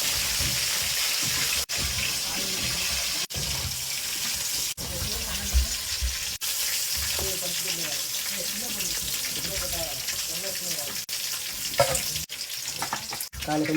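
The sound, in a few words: fish frying in oil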